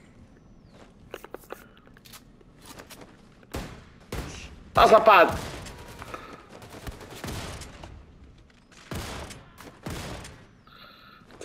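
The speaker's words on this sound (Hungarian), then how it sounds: "Az a kurva robot, az még mindig lövöldözik." Robot enemy firing guns in Wolfenstein II: The New Colossus, heard as scattered sharp shots and bursts, with one louder volley in the middle, under intermittent swearing from a player.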